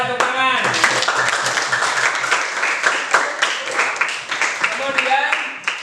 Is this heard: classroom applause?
yes